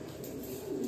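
Large pigeon gives a low, soft coo, a short close murmur lasting under a second.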